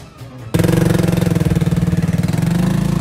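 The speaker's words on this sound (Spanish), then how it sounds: "están intentando prender la moto" A Yamaha XT660R motorcycle engine catches after a brief quiet start, then runs at a loud, close, steady idle with a rapid even thumping pulse.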